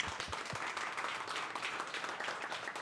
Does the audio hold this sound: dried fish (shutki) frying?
no